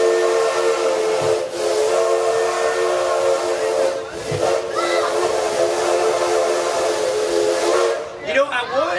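A steam locomotive whistle blows long and loud in a single sustained chord with hissing steam, briefly dipping twice before trailing off near the end.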